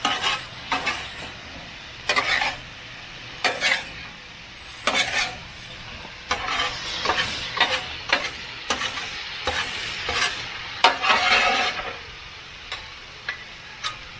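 Chicken fried rice sizzles loudly on a Blackstone griddle while two long metal spatulas scrape and clack through it in repeated rhythmic bursts, close and without talk.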